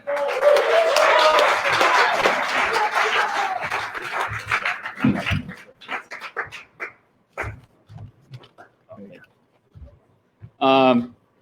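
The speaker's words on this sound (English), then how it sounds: "Keep the claps going for Ben." Audience applause at a storytelling fundraiser event, a dense burst of clapping through the opening seconds that thins out and fades, followed by scattered sounds and a brief spoken voice near the end.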